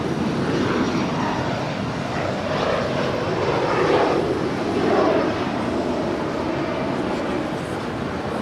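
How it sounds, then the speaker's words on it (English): An Embraer ERJ-135LR regional jet departs Los Angeles International Airport, its engines giving a loud, broad, sustained roar that swells and eases slightly over several seconds. "That is JSX Flight 321 departing to Las Vegas. It's an Embraer ERJ-135LR."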